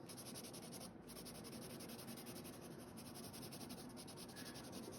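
Steady, close pencil scribbling on journal paper, a continuous dense scratching that runs unbroken with no voices.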